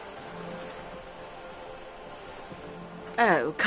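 Steady rain in the video game Disco Elysium, a soft continuous patter heard alone throughout, with a brief burst of speech near the end.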